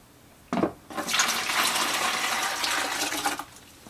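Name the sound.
cooled chicken brine being poured into a bucket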